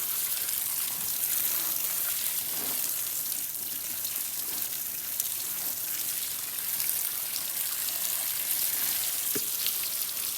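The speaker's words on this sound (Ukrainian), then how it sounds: "Спочатку ми це все діло змиваємо хорошо краном з крана." Radishes rinsed under a running tap: a steady broadband rush of flowing water with faint scattered splashes and drips, continuous and fairly close, with no talking.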